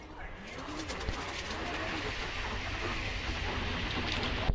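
Pigeons cooing inside a loft kept by a hobby pigeon fancier, a steady low murmur of overlapping coos that runs throughout under a broad wash of background noise.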